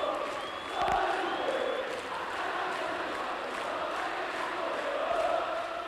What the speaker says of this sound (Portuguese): Vibra a torcida do Vasco no Maracanã